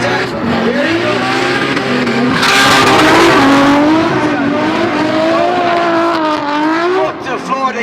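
Drift cars at Rockingham accelerating hard through the gears in a drift battle, loud engines revving up in rising pitch sweeps with gear changes, tyre squeal and skid noise, under a commentator talking over the action.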